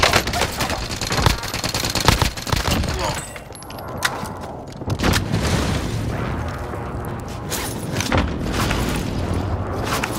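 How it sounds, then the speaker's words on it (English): Enemy precision airstrike in the video game Call of Duty: Modern Warfare, a dense battle din of booming blasts and rapid gunfire bursts that rises and falls over ten seconds, loud and close, with no clear speech. "Enemy precision airstrike."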